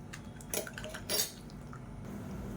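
Metal utensil scraping and clinking against a pot while stirring turmeric into a curry, a few louder strokes around the middle, over a low steady background hum.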